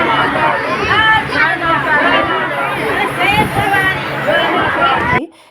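Dense crowd of pilgrims packed together waiting for the ropeway at Maihar, a loud, close, continuous babble of many overlapping voices that cuts off abruptly at the end.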